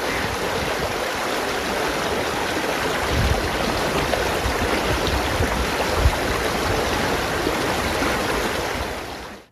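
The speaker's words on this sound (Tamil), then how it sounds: "இதனால் ஆறுகளில் வெள்ளம் கரை புரண்டதால் பனாம் உள்ளிட்ட பல பகுதிகளில் தரைப்பாலங்கள் மற்றும் சாலைகளை" Floodwater in Punjab pours over submerged roads and low bridges, a steady, full-bodied roar of rushing water that holds constant throughout with occasional heavier surges and no voices.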